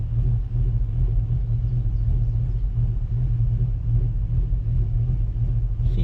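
A Tahoe's engine runs while the vehicle sits. From inside the cabin, it gives a steady low rumble that stays constant throughout.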